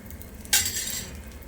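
Oil poured onto a black gram and pearl millet dosa on a hot pan sets off a sudden sizzle that swells and then settles into a steady frying hiss, close and moderately loud.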